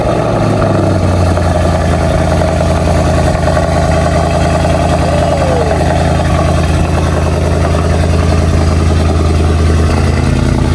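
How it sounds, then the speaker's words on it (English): Porsche 911 Carrera engine idling steadily just after a cold start, a loud, continuous low rumble with a high, even idle and no voices over it. "So let's get a cold start first."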